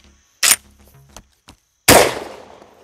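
An Emperor Arms SR5 shotgun fires in quick succession, two loud sharp blasts about one and a half seconds apart with smaller clicks of the action between them. The second blast rings out into a long decaying echo.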